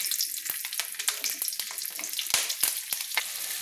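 Bay leaves with dried and slit green chillies sizzle and spit in hot oil, a steady close frying hiss broken by sharp pops and crackles.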